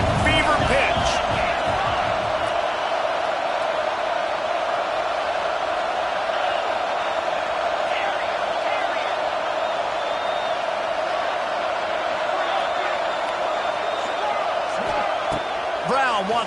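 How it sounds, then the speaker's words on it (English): Steady, loud stadium crowd roar from a CFB 26 college football video game during a third-down red-zone play, a continuous wall of cheering with a commentator talking over it. "this crowd is at fever pitch"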